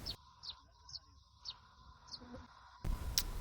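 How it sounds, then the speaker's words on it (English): Birds singing in a jungle: repeated short high chirps about every half second, moderately close, over a soft background hum, ending in a louder burst of noise. "Bird is singing in the atmosphere"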